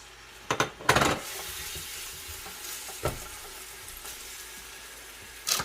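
Four crushed onions dropped into hot oil for Punjabi kadhi pakora, sizzling and frying steadily at close range with a few sharp clatters of a pot or spoon.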